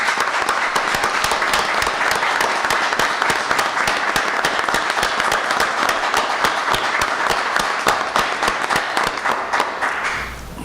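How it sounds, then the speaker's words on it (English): Loud, sustained applause from a community gathering honoring a WWII veteran, dense rapid clapping from many hands continuing for several seconds before tapering at the end. "let's start the day by giving a nice round of applause to Mr. Fortuna."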